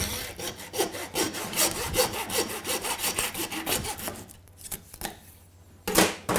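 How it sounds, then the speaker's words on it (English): A butcher's knife working through the cartilage of a lamb leg, giving steady rasping, sawing strokes on a cutting surface that pause briefly before a final firm cut, close and fairly loud, with no talking. "There's a little cartilage there, just go through with your knife"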